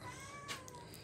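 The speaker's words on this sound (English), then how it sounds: "That is my cat." A cat gives a single short meow, soft and fairly close, over a quiet room hum.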